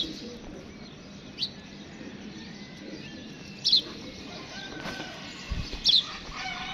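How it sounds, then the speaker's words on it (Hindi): A pigeon flaps its wings in a few short, sharp bursts against a quiet background, with faint bird chirps. "ले जी दोस्तों ये तीसरा कबूतर है"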